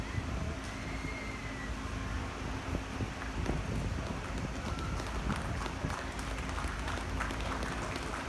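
Spectators at a youth dairy cattle show clap for the exhibitors, a spread-out round of applause heard at a distance under wind noise and arena background, with a voice faintly present.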